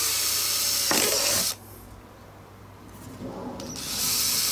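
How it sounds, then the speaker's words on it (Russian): A drill bores drain holes in the plastic body of an ATV150 quad bike, with a close whirring burst near the start, a quiet gap, then a second, fainter burst of drilling that builds toward the end. "Мы сейчас вот здесь 3 дыры просверлим."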